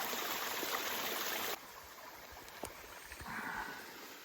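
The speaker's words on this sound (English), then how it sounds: "So I basically fill the water pouch here, some nice clean stream." A clean mountain stream on the North Fork Sauk Trail rushes loudly and steadily at first, then drops to a quieter trickle and gurgle as a water pouch is filled, with faint handling sounds.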